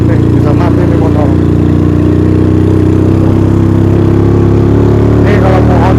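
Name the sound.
motorcycle engine straining on a steep uphill ride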